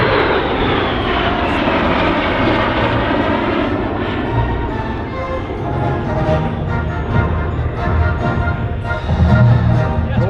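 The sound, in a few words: Lockheed T-33 Shooting Star jet flying at airshow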